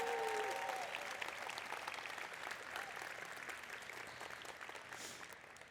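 Audience applause in a conference hall at a Python event, sustained broadband clapping from a large crowd that holds steady for several seconds and slowly tapers, with a brief voice at the very start.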